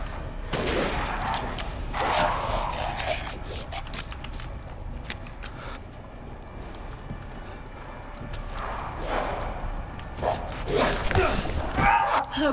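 Gunfire in the horror video game Resident Evil Village, with bursts of sharp shots and mechanical clanks over a rumbling game soundtrack, loud and close.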